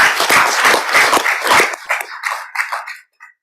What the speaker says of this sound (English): we'll just give a round of applause for Daniel.